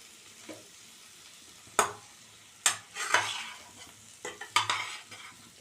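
A potato and bean bhaji is stirred with a spoon in a pan, giving a few sharp scrapes and clinks. A soft sizzle sits underneath, and it turns busier toward the end.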